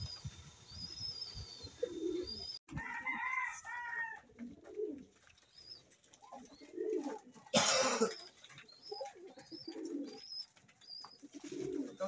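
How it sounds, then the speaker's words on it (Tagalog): Pigeons cooing outside their loft, several soft repeated coos from nearby birds with chirps and one brief harsh burst, over quiet outdoor background. "Ito guys, ang mga ibon natin sa labas."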